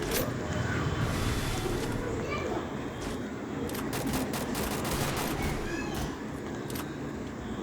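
Sniper rifle gunfire in the mobile battle game Garena Free Fire, during a Clash Squad match: dense, continuous in-game shooting and explosive cracks over a busy, loud game soundscape.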